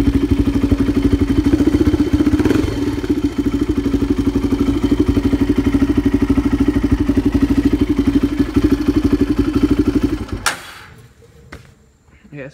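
A 2006 Polaris Predator ATV fitted with an exhaust spark arrestor idles loudly and close by with a steady, even engine rumble for about ten seconds, then is switched off and falls quiet.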